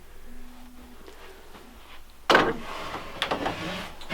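A wooden closet door in a hand-built cabin made without nails creaks open. Quiet room tone comes first, then a sudden loud creak and rattle midway, followed by more scraping creaks.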